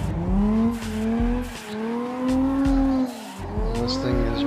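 A car drifts in CarX Drift Racing using handbrake and clutch kick, its engine revving up and down while the rear tires squeal and skid in long, loud sweeps.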